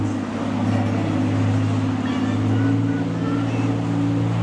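Motorboats pass under a bridge at Boynton Beach, Florida, their engines a steady loud drone with churning water and wind noise throughout.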